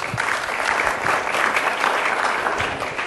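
A conference audience applauds to welcome a panel of speakers, steady dense clapping from a room full of people, loud and sustained with no talk over it.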